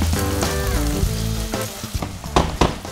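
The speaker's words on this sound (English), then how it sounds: "ready to put the onions in the pan. Stir them around." Onions tipped into hot oil in a pan over medium heat and stirred around, giving a loud, close, continuous sizzle with a few scraping strokes, alongside tonal sounds.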